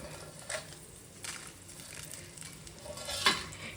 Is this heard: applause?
no